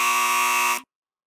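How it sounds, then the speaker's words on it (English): A game show buzzer sounds once, a loud steady electronic buzz lasting under a second and then cutting off abruptly into silence. "You didn't get a buzzer for your first one, so we double buzzed you this time"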